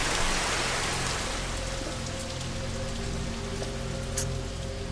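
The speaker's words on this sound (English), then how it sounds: "Man, when it rains, it really does tip it down." Heavy tropical rain pours down in Coron, Philippines, a dense, steady hiss of drops hammering surfaces close by, loud and unbroken throughout with no voices.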